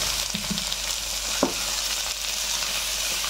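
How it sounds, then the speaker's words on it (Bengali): Sliced snake gourd fries in a pan with a little sugar, giving a steady, close sizzle broken by a few soft scrapes and knocks of stirring. "আবার 1 মিনিট একটু ভেজে নেব।"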